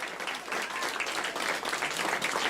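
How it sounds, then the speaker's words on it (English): A room of mission control staff at the Jet Propulsion Laboratory bursts into sustained applause after a signal arrives from the Europa Clipper spacecraft, a dense, even wash of clapping filling the space throughout. "In the room there at the Jet Propulsion Laboratory erupting in applause."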